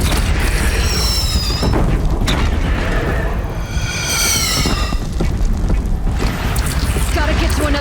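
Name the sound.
cannon firing in video game Horizon Zero Dawn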